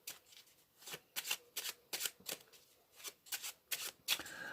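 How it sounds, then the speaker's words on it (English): A deck of playing cards is shuffled on a card mat in repeated short riffling bursts, about a dozen crisp fluttering rasps in uneven rhythm, close and fairly quiet, with no talk. "Then they can shuffle the cards."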